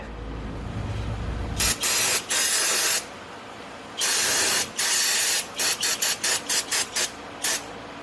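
Brake cleaner sprayed onto a newly installed rear brake rotor of a 2011-2019 Mercedes-Benz GLE350, several loud hissing aerosol bursts, two long then a run of quick short ones, close up, no talk.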